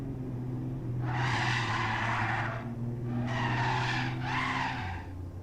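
Racing cars in a driving video game squeal their tyres through a hairpin. Three long, loud screeching skids ride over a steady engine drone, with no talk.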